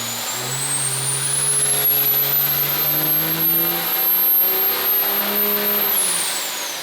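A 1400HP nitrous 5.9L quad cab truck engine screams through a dyno pull, a loud sustained roar climbing steadily in pitch with a high whine on top, then easing off at the end.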